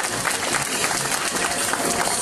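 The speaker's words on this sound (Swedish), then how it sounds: "Ge en applåd till Janna" Applause from a crowd at a Miss Universe Trelleborg pageant fashion show, a dense, even wash of clapping filling the room, with some voices mixed in.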